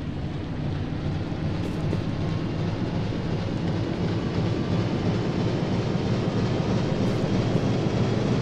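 Steady low rumble of a submarine's engine in the UBOAT game, a continuous droning hum at constant loudness with no pauses and no voices, resembling heavy machinery running below decks.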